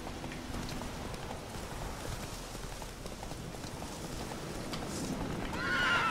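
Horse from The Witcher III neighing near the end over steady hoofbeats and ambient game noise, the whinny rising louder in the final second.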